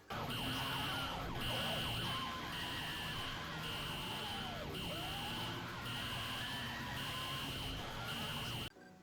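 Loud wailing alarm from an enraged boss in the mobile game Battle Bricks, a siren-like tone rising and falling in repeating cycles over dense game sound effects, continuous until it cuts off at the end.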